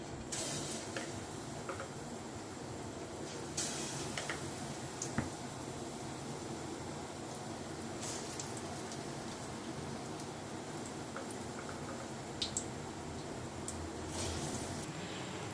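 Potato masala bondas deep-frying in hot oil give a steady, rain-like crackle and hiss that runs throughout, with a few brighter pops, and no talking.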